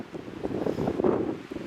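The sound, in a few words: strong wind at a mountain campsite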